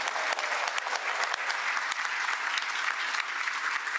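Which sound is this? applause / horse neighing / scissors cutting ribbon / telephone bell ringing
applause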